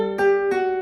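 Flamenco guitar phrase: pull-offs on the open first string ring out clearly, two plucked attacks with sustained tones between them, close and alone.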